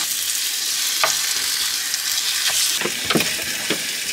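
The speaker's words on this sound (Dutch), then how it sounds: "Ik ben even kip aan het bakken." Chicken sizzles and crackles in a hot pan, a steady hiss broken by a few sharper pops and spatters.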